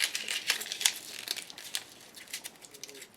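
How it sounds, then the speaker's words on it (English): Brown paper bag crumpled by hand for a collage piece, a continuous close, soft crinkling and crackling with uneven bursts, heard alone without talk. "really crumple it up,"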